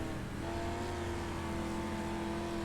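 Race cars at a dirt track during an infield tractor tire super series at Limaland Motorsports Park, with a steady, continuous engine drone heard from a distance, sustained throughout without talk.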